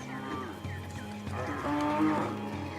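Cattle moo in a series of deep, drawn-out lowing calls, one after another, fairly close and clear with no talk over them.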